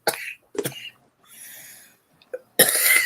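A person coughs in a few sharp, close bursts separated by short pauses, with a brief rasping breath in between and a final harsher cough at the end.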